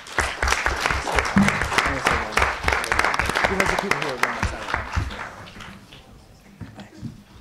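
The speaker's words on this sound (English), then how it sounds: "So give them a big round of applause." An audience applauds student senate members with a loud burst of dense clapping that gradually fades out, with some voices mixed in.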